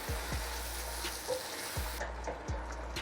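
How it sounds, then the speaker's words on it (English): Steady sizzling and bubbling with a few low scraping strokes as Ofada sauce is stirred in a pot, close and continuous. "So let me just give our sauce a stir."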